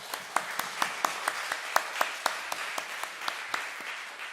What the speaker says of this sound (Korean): 자, 박수 한번 합시다.